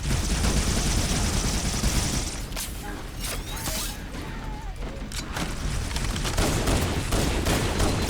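Needler fire in a Halo game match: dense, continuous rapid crackling and whooshing weapon sounds with bursts of gunfire and impacts, loud and chaotic throughout.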